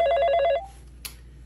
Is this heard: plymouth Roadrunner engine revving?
no